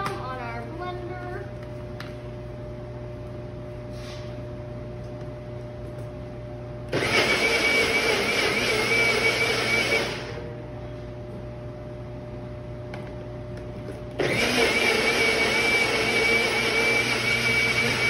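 A kitchen blender blends berries and banana into a smoothie, running loudly in two long bursts separated by a quieter pause with a steady low hum.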